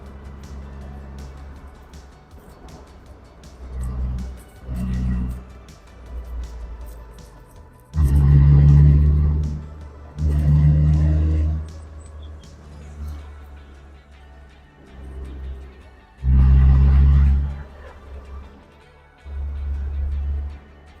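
A 2011 Morgan 4/4 Sport with a 1.6 Sigma engine drives along, its engine rising in repeated loud surges of acceleration between quieter stretches, with road and ride noise underneath.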